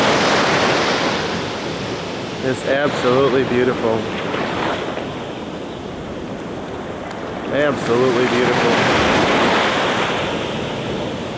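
Ocean surf breaks steadily on the shore at Bradenton Beach, Florida, under wind noise on the microphone. A person speaks briefly twice over the continuous wash of the waves.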